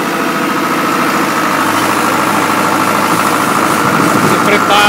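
A tractor-mounted vineyard pre-pruning machine runs with its engine idling steadily, a loud, close, continuous drone with mechanical vibration and no break.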